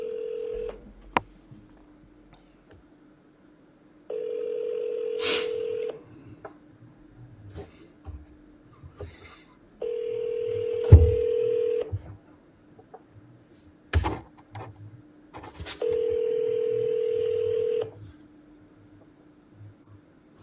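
Telephone dialing and ringing on a call to a house seller: three long ringback tones spaced a few seconds apart, with short clicks and taps between them, fairly close and clear, with no voices.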